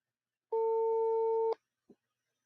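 A phone ring tone gives one steady electronic beep lasting about a second, clean and close, with a short faint blip after it.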